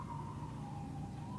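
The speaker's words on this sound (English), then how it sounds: "Sorry about the sirens." Faint, distant emergency vehicle sirens wail outdoors near a large hospital, their wavering tone rising and falling softly under a quiet room hum.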